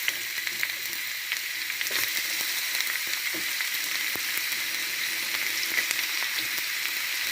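Chopped onions sizzle steadily in hot oil for a sambosa filling, a dense, even hiss with small pops and crackles that runs unbroken from start to finish.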